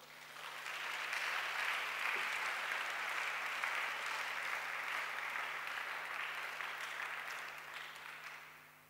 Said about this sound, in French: Acclamons notre roi